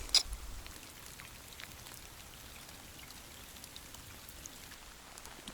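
Rain falls steadily outdoors beside a river, a continuous soft hiss of drops pattering on surfaces, fairly faint and even throughout, with one brief sharper tap at the very start and no voices.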